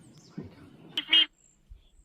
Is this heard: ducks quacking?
yes